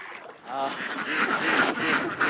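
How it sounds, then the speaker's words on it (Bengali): Ducks kept along a river bank quack in short nasal bursts, fairly close, mixed with a continuous hum from a boat on the water. "নদীর তীর ঘেঁষে দেখেন হাঁস পালন করা হচ্ছে"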